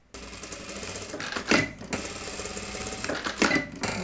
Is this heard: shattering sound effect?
no